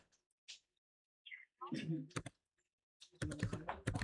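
Keys tapped on a computer keyboard to enter a network switch configuration command, a few sharp clicks sitting between and under stretches of nearby talk.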